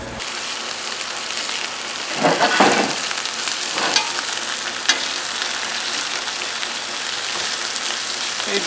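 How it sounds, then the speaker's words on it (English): Sausages sizzle and fry in a big cast iron pan with extra virgin olive oil, a dense continuous crackle broken by a few louder spatters and stirring bursts, close up and with no talking. "Next up, what we're going to do is start browning off our sausages."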